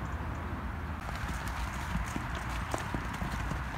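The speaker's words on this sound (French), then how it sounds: "Ils s'amusent avec le cheval du voisin." Horses moving about in a field, hooves clip-clopping unevenly on the ground at a moderate distance over a steady outdoor background hiss.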